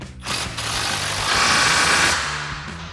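An impact wrench with a 19mm socket tightens Toyota Tacoma suspension lift bolts in one loud, sustained, close burst of rapid hammering that swells and fades over a few seconds, with no talking.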